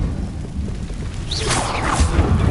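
The Incendio fire spell from Hogwarts Legacy on PS5 is cast as a low, rumbling whoosh that swells through the second half over a steady, noisy game backdrop.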